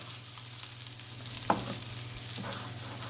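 Baby potato and egg stir-fry being mixed in a pan, a low steady sizzle with a single sharp scrape or clack of the spoon midway and faint stirring scrapes after, no talking.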